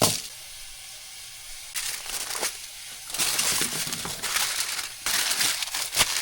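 Tomatoes and onion roasting over high heat until blackened, giving a steady sizzling hiss with crackling bursts that swell and fade, close and moderately loud, with no talking.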